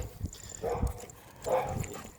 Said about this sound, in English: So there's my big dog there, my girl Grace.